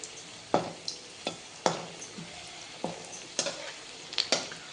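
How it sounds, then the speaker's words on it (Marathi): Crispy khekda-style onion fritters deep-frying in hot oil give a soft, steady sizzle, broken by about a dozen sharp scrapes and clinks as a spoon stirs and turns them in the pan. "हे कांदा भजे तळण्यासाठी जास्त वेळ लागत नाही झटपट असे ते तळले जातात"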